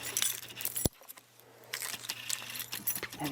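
A bunch of keys jangles and clinks close by, with a sharp metallic rattle, a brief quiet pause, then more shaking and light chinks.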